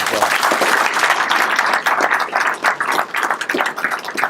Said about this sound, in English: please give Debbie a round of applause as well